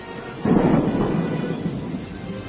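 A low rumble of thunder swells in and lingers over steady rainfall, with faint high bird chirps above.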